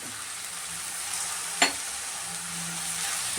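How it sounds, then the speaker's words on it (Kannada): Cabbage, capsicum and tomato frying in a pan for a chapati veg roll filling give a steady, close sizzle throughout, with one brief louder clack from a utensil near the middle. "ಇದನ್ನು ಒಂಚೂರೆಲ್ಲ ಫ್ರೈ ಮಾಡ್ತಾಯಿದ್ದೀನಿ."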